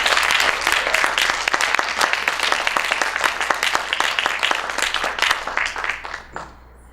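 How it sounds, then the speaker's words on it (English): Audience applause for a poetry performer at a spoken-word event: dense, sustained clapping from a sizable crowd with a few sharp individual claps, fading away at the very end. "Let's make noise for Lena."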